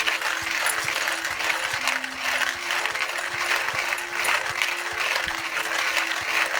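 A Porlex hand coffee grinder being cranked, giving a continuous close-up grinding and crunching rattle with a steady rhythmic turning pattern and no talking.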